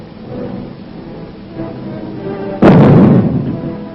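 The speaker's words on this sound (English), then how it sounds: "the first atomic bomb struck an enemy target" Atomic bomb bursting over Hiroshima, Japan, on a morning in August: a sudden loud, broadband blast erupting after low rumbling, then sustained roaring that slowly fades.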